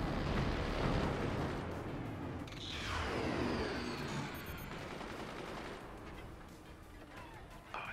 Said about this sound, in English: I'm working these mortars, so I'll have something to shoot while you're reloading those